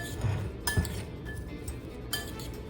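A spoon clinks against a bowl while chickpea tuna salad with lime juice, salt and pepper is mixed. There are several light scraping clinks at irregular moments over a soft background.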